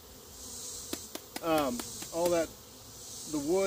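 A continuous hum of honey bees crowding on honey-laden hive frames runs under a voice, with a few clicks and handling knocks.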